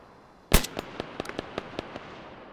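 Gunfire in the military video game Arma 3: one loud, sharp report followed by a quicker string of fainter, evenly spaced shots, heard at a moderate distance over quiet background.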